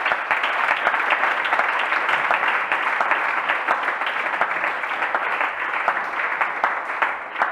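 A church congregation applauding, dense steady clapping from many hands that holds evenly throughout, with faint crowd murmur beneath.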